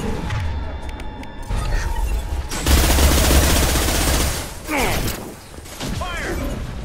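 Sustained automatic gunfire and rapid weapon bursts from the Mass Effect 2 video game, loud and dense throughout, with mechanical clatter and a shouted game voice mixed in.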